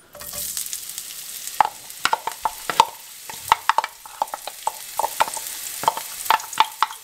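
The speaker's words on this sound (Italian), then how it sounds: "ecco faccio soffriggere lo scalogno" Chopped shallot sautés in a film of olive oil in a frying pan, a steady bright sizzle broken by frequent sharp scrapes and clinks of stirring, close and alone.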